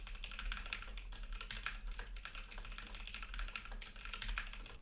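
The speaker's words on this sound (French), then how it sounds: "un test de frappe au clavier permet de tester leur résistance au bruit axe du microphone" Steady, rapid typing on a computer keyboard, recorded off-axis of a microphone, gives a continuous close clatter of key taps with no talking.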